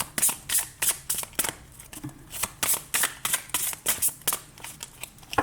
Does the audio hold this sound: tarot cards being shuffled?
yes